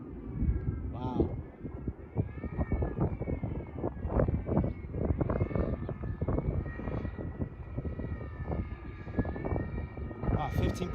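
An FT Flerken RC airplane at about 15% throttle buzzes steadily overhead with a thin, whining motor drone, while a person talks throughout.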